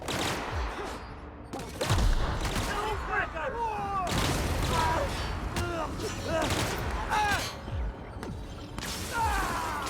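Sustained gunfire in The Outer Worlds, a sci-fi shooter: repeated bursts and loud shots across the whole stretch, mixed with whooshing effects and shouted voices.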